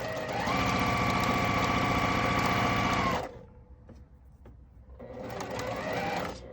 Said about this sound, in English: The machine is stuck under somewhere where it's sewing by itself.